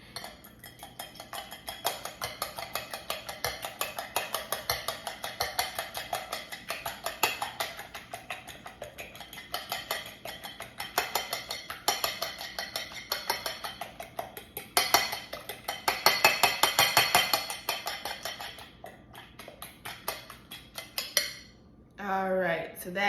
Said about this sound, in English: And we want to make sure this egg is beaten.